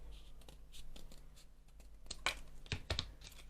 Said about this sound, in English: Cut a couple of circles out.